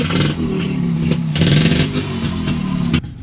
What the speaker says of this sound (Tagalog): Ang ingay ng motor ni kuya.